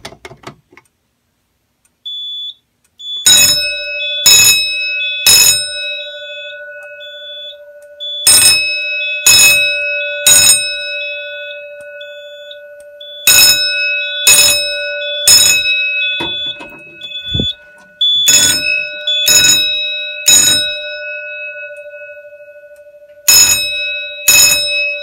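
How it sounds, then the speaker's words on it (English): Fire alarm bell on zone 3 of a building alarm system test, ringing loudly in repeated groups of three pulses with short pauses between groups, alongside a steady high electronic tone and a few clicks. "the bell should pulse 3 times in a row"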